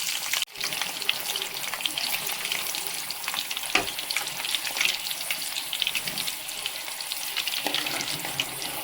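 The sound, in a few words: green chilies and tempering spices frying in hot oil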